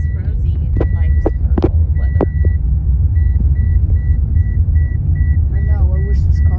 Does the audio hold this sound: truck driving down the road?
yes